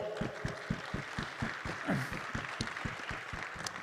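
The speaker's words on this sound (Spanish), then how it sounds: "Un aplauso para Julio, por favor." Faint, sparse clapping comes from a small group after a live-streamed math lesson. The claps fall in a fairly regular rhythm over a few seconds, with a brief voice in the middle.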